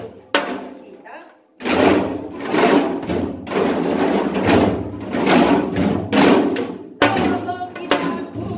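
A janggu, the Korean hourglass drum, is struck in a slow gutgeori rhythm for a folk song lesson, with repeated close, loud strokes and rolls after a short pause near the start.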